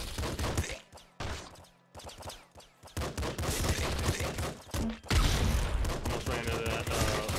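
Rapid machine gun bursts in the video game Nuclear Throne, in choppy stop-start volleys at first, then denser continuous firing mixed with other game effects.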